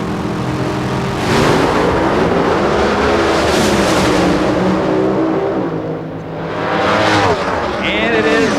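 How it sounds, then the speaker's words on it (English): A Top Alcohol drag racing car does a burnout at the 1995 NHRA Winternationals, a loud, sustained roar with squealing tires that dips briefly and surges again, with a voice talking underneath. "The near lane, Pendragon, the bad burnout didn't seem to hurt him a bit."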